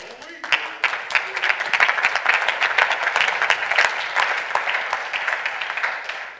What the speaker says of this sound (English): I thought I would get a little bit more applause than that